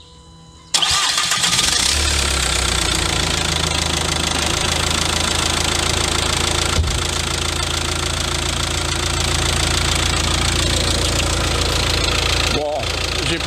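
A car engine cranks and catches during a 12-volt battery starting test, then runs loud and steady close by, with a brief dip near the end.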